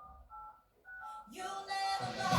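Telephone dialing tones in a song play as a few short beeping keypad tones, then music with singing swells in, fairly loud.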